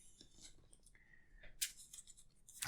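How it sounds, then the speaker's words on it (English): Playing cards from an Arkham Horror card game are shuffled back into a deck at close range, giving quiet, crisp riffling and flicking bursts with small pauses between them. "So, shuffling this Ancient Evils back in."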